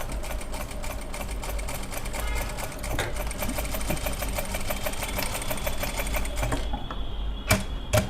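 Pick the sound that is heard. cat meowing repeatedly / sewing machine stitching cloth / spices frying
sewing machine stitching cloth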